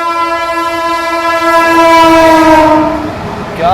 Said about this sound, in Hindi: हॉन्गिंग सुन रहे हो, पीछे से आ रही है आनंद विहार से चलकर हटिया की और जाने वाली झारखंड स्वर्ण जयंती एक्सप्रेस